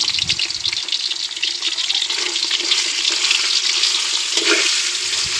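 Fatty pork dropped into boiling oil in a home kitchen, frying with a constant loud hiss and crackle, and a few brief clatters and stirs close by.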